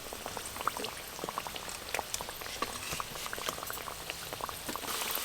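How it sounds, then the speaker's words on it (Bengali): Bengali pitha frying in hot oil on low heat makes a steady, close bubbling sizzle with scattered small pops and crackles throughout, with no voices. "একদম কিন্তু কম আঁচে ভাজছি বন্ধুরা"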